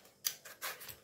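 Taro root being scraped with a potato peeler, a few short dry rasping strokes, close and quiet, each stroke a brief scratchy burst with small pauses between.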